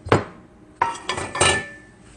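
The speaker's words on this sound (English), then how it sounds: "This is the ashtray." Hookah ashtray being picked up and set down, three short clinks of metal and glass with a little ring after each, close by and with no talking.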